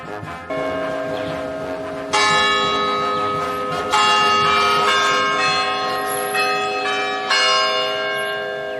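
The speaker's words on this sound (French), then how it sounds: "Ces cloches nous rappellent que nous sommes dimanche." Church bells ring out on a Sunday in a town in the Ecuadorian Andes, several overlapping strikes sounding loud and resonant with long ringing tails, fresh peals entering every couple of seconds over the steady hum.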